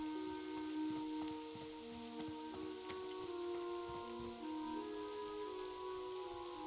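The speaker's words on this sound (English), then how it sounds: "It's raining in the game right now." Rain falling in World of Warcraft gives a steady, soft hiss of drops on surfaces, continuous and even, mixed with faint background game music tones and no talking.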